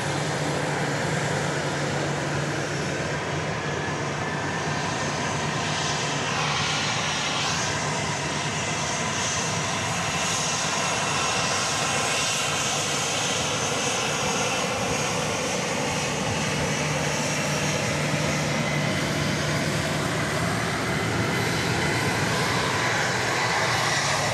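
An airplane at Dallas Love Field bound for Houston Hobby gives a loud, sustained engine roar that holds steady for over twenty seconds, broad and rushing, with a faint low hum underneath.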